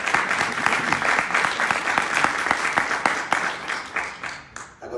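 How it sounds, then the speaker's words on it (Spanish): Audience applause closing a talk at a Spanish-language panel discussion, brisk many-handed clapping with distinct sharp claps that thins and fades away near the end. "Un aplauso, por favor"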